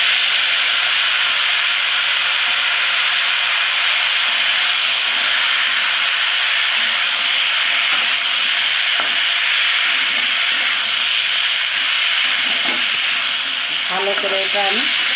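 Potatoes, aubergine and green chillies fry in oil in a pan for a fish curry, giving a loud, steady sizzle and hiss throughout, with faint stirring clinks near the end.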